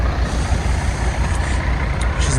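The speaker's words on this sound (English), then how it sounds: "These are our buses." Tour buses idle at a desert rest stop at sunrise, their diesel engines giving a loud, steady low rumble with no voices over it.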